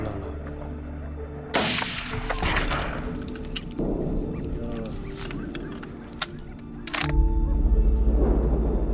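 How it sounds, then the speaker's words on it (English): During a wild boar hunt with dogs, a single sharp rifle shot cracks out, followed by a noisy mix of animal cries and commotion outdoors, ending in a low rumble. "I raise my rifle and fire decisively"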